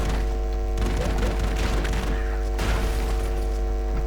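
Rapid bursts of explosions and crashing blasts from the game Broforce, dense and loud over a constant low hum, with no talking.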